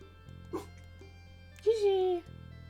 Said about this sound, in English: No, she's just barking.